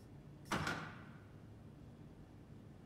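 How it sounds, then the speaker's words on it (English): A door in the video game SOMA slides shut with one whooshing, scraping close and a short ringing tail, fairly faint over a low ambient hum. "We'll be polite and close the door."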